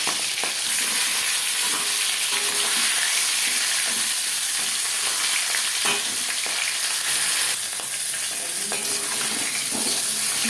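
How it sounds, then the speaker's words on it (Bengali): Marinated fish head frying in hot refined oil, a steady loud sizzle and crackle throughout with occasional stirring scrapes, no voices. "তেল গরম হয়ে গেছে এবার দিয়ে দেবো ম্যারিনেট করে রাখা মাছের মাথা"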